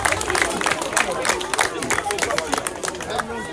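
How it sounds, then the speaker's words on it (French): Crowd clapping and cheering for the Mennevilliers team captain at a youth U10–U11 football tournament awards ceremony, steady applause with chatter throughout. "On applaudit très fort le capitaine de Mennevilliers."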